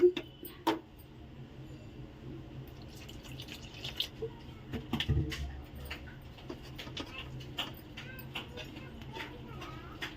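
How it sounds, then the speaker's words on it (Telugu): A wooden buttermilk churner whisks bajji batter for capsicum bajji, giving irregular wet slaps and drips with scattered knocks, fairly quiet and close, with a faint voice now and then. "ఈ మజ్జిగ కవ్వం దొరికిందనమాట. ఇది చిలికెత్తున్నాను."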